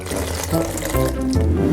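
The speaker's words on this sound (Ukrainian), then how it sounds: "Заливаємо спрайтом." Sprite is poured into a tall glass packed with ice, a continuous close splashing and fizzing of liquid running steadily throughout.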